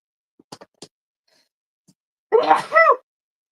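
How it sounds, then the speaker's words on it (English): A single sneeze-like burst, loud and close, after a few soft clicks and a faint breath, with a brief catch then explosive release. "Uh-oh, comes my sneeze."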